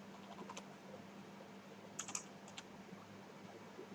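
Keys tapped on a computer keyboard while a variable name is typed, a sparse, faint run of light clicks with a small cluster in the middle over a low steady hum.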